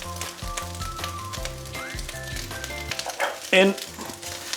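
Cumberland sausage fried rice crackles softly in a hot pan as it is stirred, with a steady faint sizzle and a couple of louder scrapes, heard under background music and someone talking.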